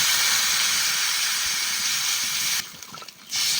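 Water poured into a hot pan of rohu fish curry with potatoes sends up a loud, continuous steaming hiss that cuts off abruptly near the end, then returns, with no talking.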